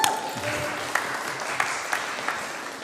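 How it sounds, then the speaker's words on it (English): An audience at a convener's speech claps together in a steady, moderately loud round of applause, with a few sharper individual claps standing out through the wash of sound. "please give yourself a round of applause"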